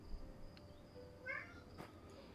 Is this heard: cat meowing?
yes